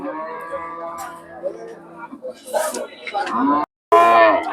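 Cattle moo loudly and close by at Chandina cattle market, several drawn-out calls in succession, with a brief silence before a final low moo.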